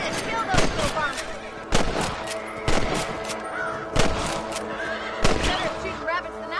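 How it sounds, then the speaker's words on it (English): Rifle shots at rabbits in the western game Red Dead, several sharp cracks spaced a second or so apart amid horse whinnies and hoof sounds, with speech over the top. "Better at shooting rabbits than outlaws, I see."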